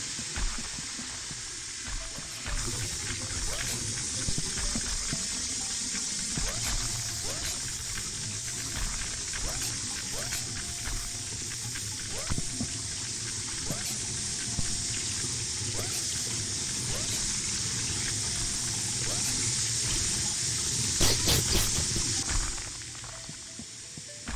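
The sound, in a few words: running water in the video game Horace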